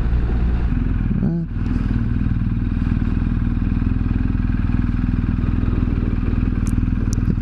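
A motorcycle engine drones steadily at close range while riding the Talimena Parkway, with wind rush and a brief clunk near the start, running continuously throughout.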